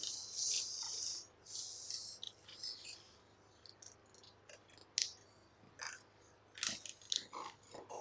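Scissors cut a paper sewing pattern up the center line for a bamboo-style bodice, making a run of soft, close snips and crisp crunching cuts with brief pauses between them.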